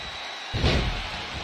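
A wrestler is slammed onto the mat in WWE 2K20, a single heavy thud that breaks in after a brief quiet and rings out into a fading crowd-like wash.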